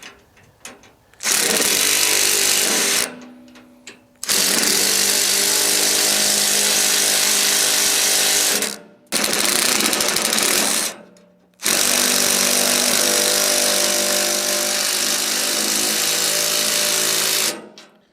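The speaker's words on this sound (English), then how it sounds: "grab the impact and a wrench, tighten this down, and it should hold in place and keep your tote tight" Loud, sustained whirring bursts from an impact wrench tightening lock nuts on long bolts holding a bar on an IBC tote firewood rack, running in several long pulls separated by short pauses.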